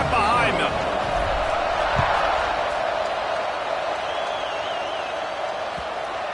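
A steady stadium crowd roar fills the air at kickoff in the College Football 26 video game during a matchup against Texas, broad and continuous, fading slightly toward the end.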